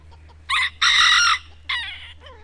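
A rooster on a farm crows loudly and close, a long, bright call in several segments with a shorter follow-up and soft clucks, over a low steady background hum.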